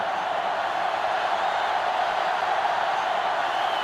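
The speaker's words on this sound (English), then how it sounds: "This sellout crowd is really making a difference now as these guys can't even call the play" Simulated stadium crowd noise from the NCAA Football 2005 video game, a sellout crowd roaring in a steady, unbroken wash at moderate level with no distinct cheers standing out.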